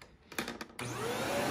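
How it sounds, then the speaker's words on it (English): A Shark NV752 Rotator Powered Lift-Away TruePet upright vacuum cleaner clicks a few times, then switches on with a sudden loud motor roar that holds steady and close, a rising whine building under the broadband rush. "You can hear the brush moving."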